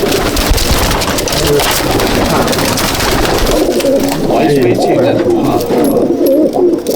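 Pigeons in a loft at Mominpur, some from Dubai, coo and rustle amid a dense, loud wash of wing and body noise, while someone talks over them.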